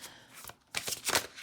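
Power of Surrender tarot cards being shuffled, two quick riffling bursts of papery flutter with a brief gap between, close and moderately loud.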